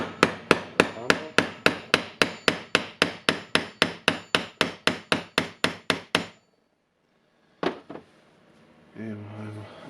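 A long, steady run of about twenty-five sharp metallic hammer strikes at an even pace, driving a new bearing into a Milwaukee M18 die grinder, then a pause, one more tap, and a brief rustle.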